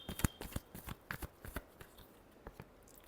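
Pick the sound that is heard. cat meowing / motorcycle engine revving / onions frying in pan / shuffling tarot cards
shuffling tarot cards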